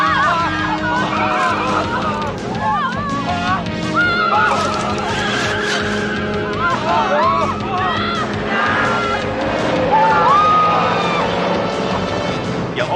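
A car skidding in a police sitcom chase scene, long squealing tire screeches rising and falling over engine noise and a dense, loud soundtrack, with voices mixed in.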